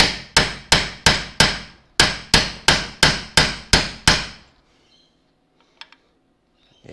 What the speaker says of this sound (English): Let's get a bit bigger hammer.